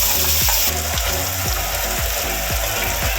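Spices with asafoetida and salt sauté in hot oil for an elephant yam stir-fry; a loud, constant sizzle rolls on with a rhythmic low mechanical churning pulsing underneath.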